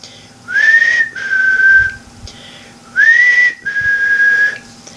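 Two pairs of clear, loud whistles, each a rising note followed by a long level tone, with a short pause between the pairs and no voices.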